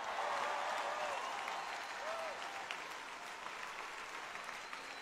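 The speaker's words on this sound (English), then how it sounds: "Clap for Jesus like you mean it." A congregation at a mass deliverance church service in London claps hands in a sustained, roaring wash of applause that fades slightly, with voices faintly audible beneath.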